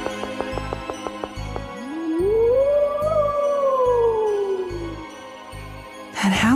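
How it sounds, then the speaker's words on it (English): Monster howl from the video game Tales of Symphonia, a single long rising-then-falling wail that swells loud and sustains for several seconds over a low rhythmic musical pulse, ending abruptly. "That howl again."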